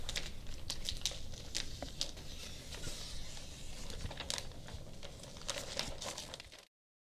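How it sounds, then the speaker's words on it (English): A utility knife slicing and crinkling excess plastic sheeting along magnetic strips of a ZipWall barrier, close and fairly quiet, with irregular crisp tearing and crackling bursts before the sound cuts off abruptly. "cut the excess plastic away by tracing the magnetic strips with your knife"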